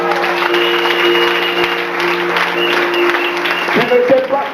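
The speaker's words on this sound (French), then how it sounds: "Acclame très fort." A church audience at a prophetic conference in Gabon applauds and cheers loudly, a dense continuous wash of clapping with sustained tonal hum underneath and a voice rising over it near the end.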